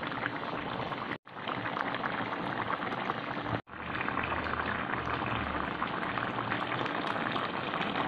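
A meatless potato stew with carrots and chickpeas simmers in a pot: a steady, dense bubbling hiss that fills the clip, broken by two brief moments of silence.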